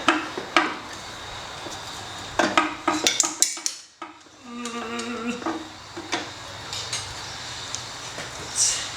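A screwdriver pries and taps at a metal lid, giving sharp metallic clinks and scrapes in irregular clusters, then a brief rattling vibration, close up and without talk.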